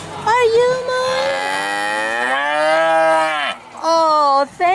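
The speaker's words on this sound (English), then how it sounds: "Are you mooing? Are you mooing?" A cow gives one long, loud, drawn-out moo close by, sliding in pitch. A shorter moo follows, with no voices in between.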